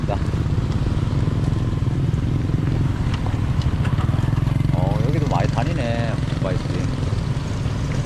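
A motorcycle engine drones steadily nearby on a walking path in Vang Vieng, rumbling loudly throughout, while a person talks over it.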